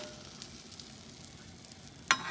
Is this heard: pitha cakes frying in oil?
yes